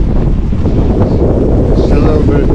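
Strong wind buffets a sailboat under sail, a steady, loud roar of gusting air hitting the microphone with water and hull noise beneath, continuous throughout.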